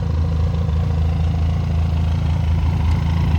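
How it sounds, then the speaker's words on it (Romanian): A Benelli motorcycle engine idles steadily up close, a loud, even mid-pitched thrum with a faint mechanical clatter running throughout, with no voices over it. "Am să strâng motorul ca să ne auzim."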